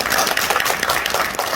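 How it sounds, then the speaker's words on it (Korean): A crowd at a political gathering in Gwangju for a National Assembly member gives a short burst of applause, dense and even throughout. "박수 한번 주시죠."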